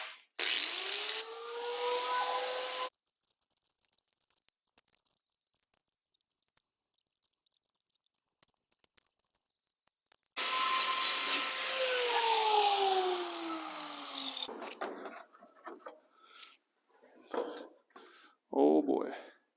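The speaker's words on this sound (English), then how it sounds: "I got to grind off a little bit of area right here" A loud power grinder cutting a metal radiator bracket whines for a few seconds, stops, then grinds again for several seconds with a rising and falling pitch, followed by scattered clanks.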